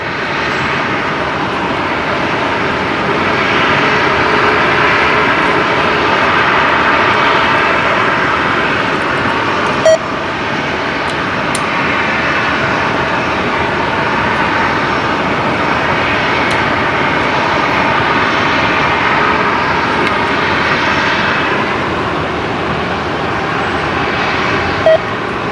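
An airliner comes in to land at Brisbane Airport, its engines a loud, steady roar and broad rumble that holds evenly for the whole stretch, with no speech over it.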